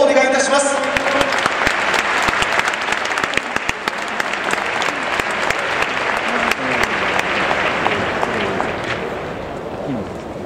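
Stadium crowd at a Kawasaki Frontale versus Gamba Osaka J1 league football match applauding the players, a loud, sustained wash of clapping filling the whole stretch, with a tannoy voice and crowd voices underneath.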